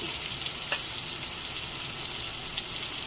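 Red onion frying in a pan gives a steady, moderately loud sizzle with a few small pops and crackles, continuous and without talk.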